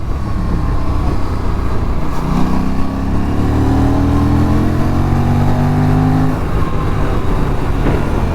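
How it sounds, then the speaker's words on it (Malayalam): An Aprilia 457 motorcycle on a test ride, its engine rising in steady revving sweeps and easing back, close and loud against road and wind noise, with no voices. "അതുപോലെ സൗണ്ട് ചെയ്യുന്നു വണ്ടി"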